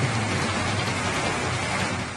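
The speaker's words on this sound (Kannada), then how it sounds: "ರಾಜ್ಯದಲ್ಲಿ ವರುಣಾರ್ಭಟ ಜೋರಾಗಿದೆ ಎಡೆಬಿಡದೆ ಬಿಡದೆ ಮಳೆಗೆ ಅವಾಂತರಗಳೇ ಆಗ್ತಾ ಇವೆ" Heavy, steady rain during a downpour in Karnataka, a dense continuous hiss with a low rumble underneath, loud and unbroken throughout, no voices.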